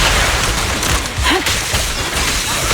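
Rapid gunfire from a quick shot attack during combat in Zenless Zone Zero, a dense burst of shots layered over loud game sound effects and music.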